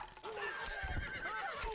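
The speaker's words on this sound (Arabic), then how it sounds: "الحصان سريع" A horse neighs loudly and close in the video game Stronghold: Crusader, a single wavering whinny that rises and falls over soft hoof-like thumps.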